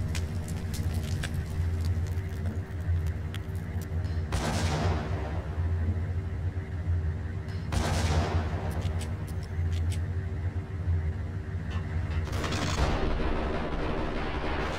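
Video game gunfire from Max Payne aboard a ship, three sharp loud shot bursts spaced a few seconds apart over a constant low engine-like drone, no talking.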